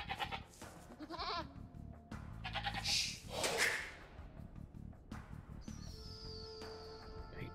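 Goats bleat in several short, wavering cries amid scattered whooshing effects in Age of Empires 2 Definitive Edition, fairly quiet with no one speaking.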